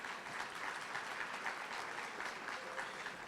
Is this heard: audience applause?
yes